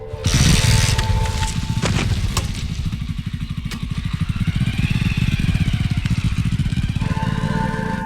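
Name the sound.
motorcycle riding away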